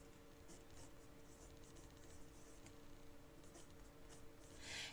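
A pen writing words on paper while sketching a black horsefly, giving very faint, close scratchy strokes in short bursts over a quiet, hummy room background.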